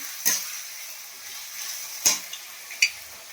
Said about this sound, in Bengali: পেঁয়াজটাকে আমি একটু ভালো করে নেড়ে নিই।